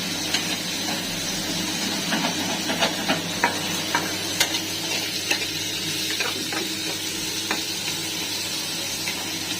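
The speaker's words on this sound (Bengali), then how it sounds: "এবার একটু টমেটোটা একটু ভাজা ভাজা হয়ে যাক" Tomatoes fry in a pan with a steady soft sizzle while a utensil scrapes and taps in repeated light strokes as they are stirred, close and fairly quiet, with no talk.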